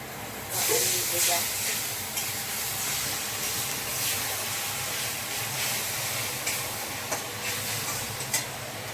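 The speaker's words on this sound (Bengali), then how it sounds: "জল দিয়ে ভাজবো।" Cabbage, carrot and soya chunks fry in water in a pan, giving a continuous loud steam hiss with scattered crackles and small pops throughout.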